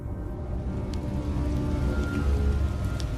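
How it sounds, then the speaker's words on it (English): Heavy rain pouring down steadily outdoors, a dense continuous patter and rumble at moderate loudness with no voices. "the rain came down hard."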